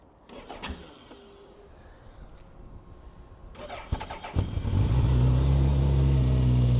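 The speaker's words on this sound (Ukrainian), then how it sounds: "Зараз одною рукою не, не, не зможу завести, так як щеплення потрібно натиснути." A 2016 Suzuki GSX-S1000F motorcycle with about 10,500 km is started up close: faint clicks and a brief crank, then the engine catches around four seconds in and settles into a loud, steady idle rumble. No one speaks.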